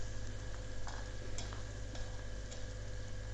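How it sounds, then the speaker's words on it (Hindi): Garlic ginger paste fries with a faint, steady sizzle in a karahi, and a spoon gives a few light scrapes and clicks as it stirs. "और इसको इसी तरह से चम्मच चलाते हुए आपने फ्राई करना।"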